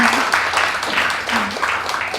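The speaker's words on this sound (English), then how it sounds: "give her a round of applause" Audience applause at a stage magic show, a dense wash of clapping from a crowd that carries on steadily for a couple of seconds, with a voice talking over it.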